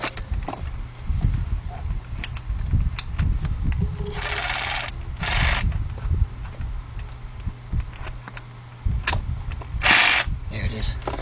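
A ratchet clicks in short bursts while turning a nut on a 2006 Kia Sportage EX 2.7 engine during head gasket work, with scattered mechanical clatter and a few louder scraping bursts.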